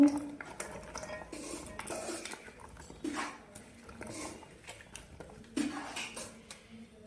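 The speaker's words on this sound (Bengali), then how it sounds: "আমি একটা পাত্রে কেটে রাখা বেগুন, কেটে রাখা আলু," Chopped eggplant and potato, with cut beans, tumble into a pot, giving a series of soft knocks and clatters of vegetable pieces against metal, with scattered utensil clinks, close and moderately loud.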